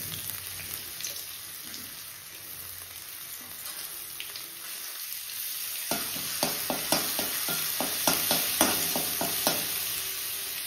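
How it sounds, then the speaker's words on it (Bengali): Cumin, dried chillies, asafoetida and chopped ginger sizzle in hot oil in a home kitchen, a steady close fry that picks up sharp bursts and stirring clatter partway through. "এখানে দেখো জিরে আর শুকনো লঙ্কা ফোড়ন দিয়েছি। এবার দেব হচ্ছে একটু হিং, এবার দেব হচ্ছে আদা কুচি"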